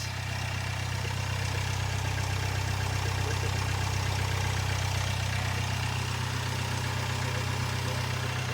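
A Jaguar F-Pace with the 204DTD Ingenium diesel engine idles after a turbo replacement, giving a loud, steady low rumble that stays even and close throughout, with no whine and no speech.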